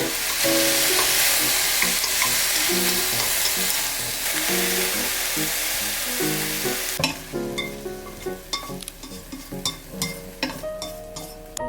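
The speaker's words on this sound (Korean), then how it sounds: "이렇게 고기가 어느 정도 볶아졌으면 나머지 버섯은 같이 넣고 볶아주시면 됩니다" Meat and mushrooms stir-fry in a pan for japchae, a bright hissing sizzle with spatula scrapes and stirring clatter that drops off midway, leaving quieter sparse clinks and sputters.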